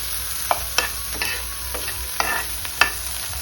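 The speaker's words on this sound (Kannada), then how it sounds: "ಒಂದು ಫೈವ್ ಮಿನಿಟ್ಸ್ ಸಿಮ್ಮಲ್ಲಿ ಇಟ್ಕೊಂಡು ಫ್ರೈ ಮಾಡ್ಕೊಳ್ಳಿ" Pudina egg fry cooking on a low flame in a pan, with a steady soft sizzle under a few sharp clicks and scrapes of a spatua stirring.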